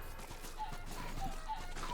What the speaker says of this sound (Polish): A ci na kurczakach jeżdżą!